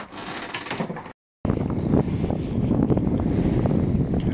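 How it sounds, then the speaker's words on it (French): Gusty wind roaring across a microphone at sea, broken by a brief dropout, then a steady rush of wind and water around a sailing boat. "le vent se renforce un petit peu"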